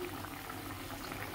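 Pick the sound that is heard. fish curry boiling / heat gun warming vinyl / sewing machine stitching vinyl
fish curry boiling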